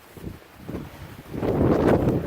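Strong, gusty wind buffets the microphone on an exposed mountain section of the Appalachian Trail in the Great Smokies in January, building into a loud, sustained roar in the second half.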